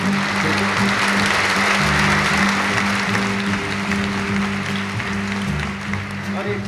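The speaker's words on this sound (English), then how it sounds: "What are you clapping for?" Live audience clapping at a 1969 concert performance of a folk song, a steady dense wash of applause that fills the clip, with a low sustained hum and some voices underneath.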